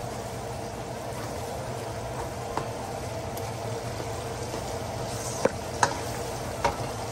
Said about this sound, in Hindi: अभी मैं इसको थोड़ी देर भूनूंगी